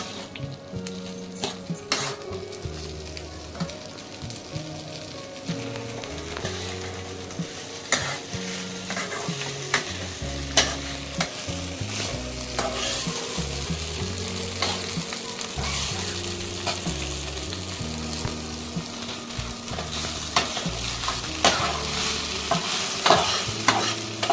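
Poha fries in a pan while being stirred, a continuous sizzle with repeated scraping and clinking strokes, heard under steady rhythmic background music throughout.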